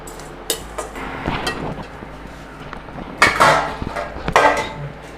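Coriander seeds dry-roast in a pan for a homemade kuzhambu chili powder, with a spoon scraping and clattering against the metal in irregular bursts, some louder rattles toward the end.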